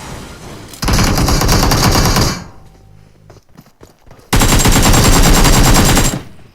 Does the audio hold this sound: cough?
no